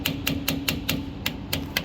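Ball peen hammer tapping a thin flat blade screwdriver to pry a rear axle cover on a Ford Super Duty: eight sharp metallic taps in a steady, even rhythm, close and clear with no voices.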